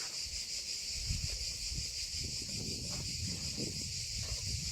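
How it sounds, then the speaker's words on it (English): A steady, high-pitched buzzing drone of cicadas fills the air continuously at Hadrian's Villa, with faint rustling and low movement noises underneath. "You can hear the cicadas, singing for us."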